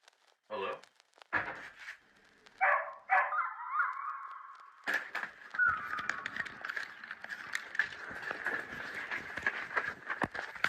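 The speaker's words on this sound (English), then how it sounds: "just for his dog to start barking again and then whimpering" A dog barks in short bursts, first sparse and then in a denser run of yelps and whimpers, fairly close in an indoor room.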